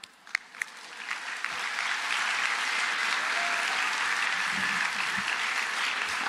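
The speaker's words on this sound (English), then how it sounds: "So we applaud you." Applause from an audience at an 8th grade promotion ceremony, starting with a few scattered claps and quickly swelling into steady, dense clapping that fills the room.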